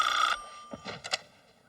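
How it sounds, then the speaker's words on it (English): A telephone bell rings loudly in a bank office for a brief burst at the start, then stops as the receiver is picked up, leaving a few soft knocks and handling clicks. "Just answer the phone, wimp."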